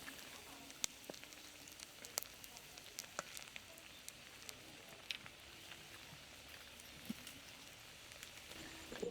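Food sizzles quietly in hot oil, a steady hiss with scattered crackles and pops, faint and continuous without voices.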